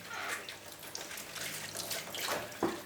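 Running tap water rinses leeks in a kitchen sink, washing grit away with a steady broadband splashing and hiss that swells in bursts and ends with a louder splash near the close.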